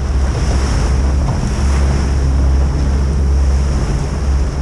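Strong wind gusts and rolling ocean surf on a Dungeness crab fishing boat out at sea, a loud, steady roar of buffeting wind over churning water with no voices.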